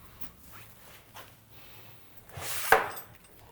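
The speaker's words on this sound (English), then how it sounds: "Going to close this, trying to zip it up" A zipper is pulled shut on a soft case holding a GoPro sensor and its SD card: one quick, fairly close zip near the end, after faint handling rustles.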